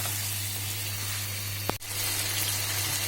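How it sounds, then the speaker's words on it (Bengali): Pieces of chicken sizzling steadily in a hot pan for a yoghurt chicken curry, a constant close frying hiss with one brief clatter of stirring near the end. "এটা এর মধ্যে দিয়ে এবার ভালো করে নাড়িয়ে কষিয়ে নিব।"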